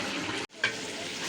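A large pan of halwa with coconut and almonds sizzles and fries steadily, with a ladle stirring through it at close range; the frying noise briefly cuts out, then resumes.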